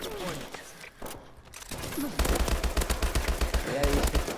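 An HBRa3 rifle fired from the hip in Call of Duty Advanced Warfare lets off sustained rapid bursts, loud and close, broken by a short pause, with game sounds and effects around the shots.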